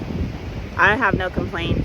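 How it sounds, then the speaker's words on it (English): Gusty wind buffets the microphone with a low rumble while a person speaks briefly over it. "It's just really windy right now."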